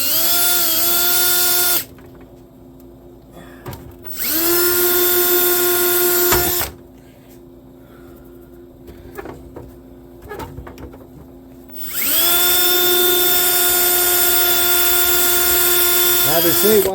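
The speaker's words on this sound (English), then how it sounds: "And if you need to drill a little more," An electric power drill runs in loud sustained bursts, whining at high speed, stopping and restarting several times, with quieter handling noise and a voice talking in the gaps.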